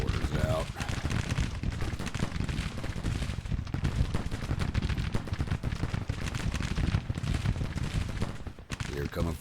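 Sustained volleys of musket and rifle fire in a Civil War battle video game, dense crackling shots rolling continuously at mid distance with voices shouting over the fighting.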